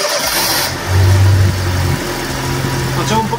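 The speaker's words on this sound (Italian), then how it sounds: "mi sembra proprio che il motore giri molto meglio" A used car bought for 200 euros, its engine recently fouled with a caramel-like sludge, turns over and settles into a steady, loud mid-pitched idle with a brief rise in revs; some background voice is present.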